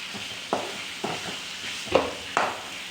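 A spoon stirs turmeric powder into a sardine curry in a pan. Soft scraping sweeps repeat about every half second, each followed by a quiet sizzle, with no voices.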